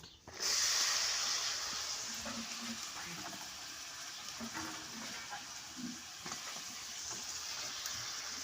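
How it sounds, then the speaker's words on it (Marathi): Moth beans hit a hot pan with a sudden loud sizzle that settles into a steady hiss of frying, with soft stirring scrapes and faint voices underneath. "आता मटकी उचलली आहे आणि आता ती कढईमध्ये टाकायची आहे"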